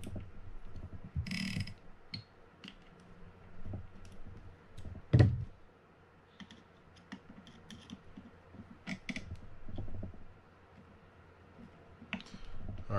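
A Penn International II 50SW fishing reel is worked after reassembly, giving scattered close mechanical clicks and ratcheting ticks, with one sharper knock midway, between short quiet gaps.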